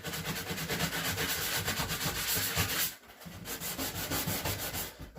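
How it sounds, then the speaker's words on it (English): A sanding block rasps across drywall in quick back-and-forth strokes, pausing briefly before the rhythmic scraping resumes. "So what I'm actually going to do is grab my sanding block"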